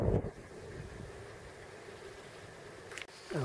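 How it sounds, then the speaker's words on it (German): Steady, soft wind rushes past outdoors in Butterfly Gorge, Crete, in a continuous low hiss, with a couple of brief louder gusts buffeting the microphone. "jetzt ist etwas Wind aufgekommen"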